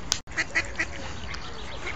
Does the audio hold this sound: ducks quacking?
yes